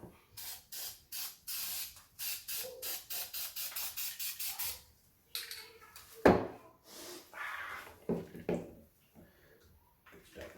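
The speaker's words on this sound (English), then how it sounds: "I'm just going to put a little bit of spray paint in the bottom." Repeated short bursts of aerosol spray paint hissing in a steady rhythm, followed by a few longer, irregular sprays with some clatter, close by.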